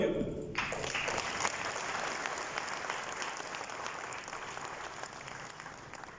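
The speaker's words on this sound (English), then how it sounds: "We should give a big round of applause to all of you." Applause from guests at an insurers association's 50th anniversary gala, a steady, moderately distant clapping that fills the room evenly and stays level throughout.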